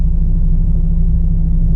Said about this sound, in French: Porsche GT3